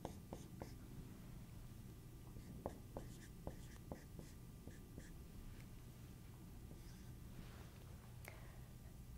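A pen or marker scratches out algebra equations for a system of two equations in two variables, with quick faint taps and strokes scattered over a low steady hum, close and quiet, with no talk.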